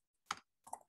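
A couple of quick, faint keystrokes on a computer keyboard, separated by a short pause in an otherwise quiet room.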